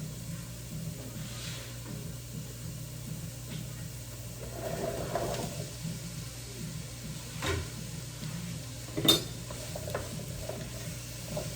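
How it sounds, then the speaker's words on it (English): Sweet potatoes go into a pan of browned onions, garlic and olive oil, giving faint sizzling and soft stirring with occasional louder clatters of pan and utensil over a low steady hum. "Time to add the sweet potatoes."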